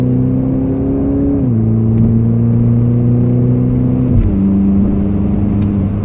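A BMW Z4 20i with a 197 hp engine pulls hard under acceleration. The loud, close engine note holds steady and drops in pitch twice as it shifts up, with no voices.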